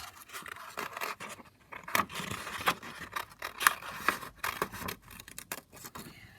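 Scissors snip around paper collage pieces, giving close, crisp cuts and papery rustles in an uneven rhythm, with no voices.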